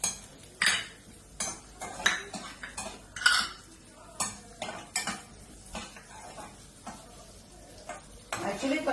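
Cashews and raisins roast in a pan, heard as a spoon clinking and scraping against metal in quick irregular strokes, fairly quiet and close, over a faint sizzle.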